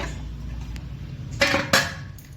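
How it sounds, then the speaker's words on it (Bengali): Two short metallic clatters of a wok being set down on a lit gas stove, over a steady low burner hum. "এখন আমি এই কড়াইটা বসালাম।"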